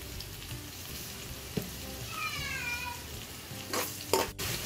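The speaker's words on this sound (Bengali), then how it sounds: "তো দেখতেই পাচ্ছেন পেঁয়াজটাকে আমি ফ্রাই করে নিচ্ছি।" Onions and chilies fry in a pan while being stirred, a steady sizzle close by with occasional scraping stir sounds and a brief cat-like meow in the middle.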